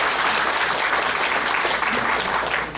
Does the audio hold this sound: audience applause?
yes